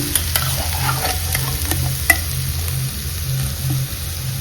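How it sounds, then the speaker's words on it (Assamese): Boiled pork pieces frying in a pan with browned onions and a little oil, a constant close sizzle broken by sharp scrapes and clinks of stirring, with no one talking. "তো এতিয়া মই ইয়াতে বইল কৰি থোৱা পৰ্কখিনি দি দিম।"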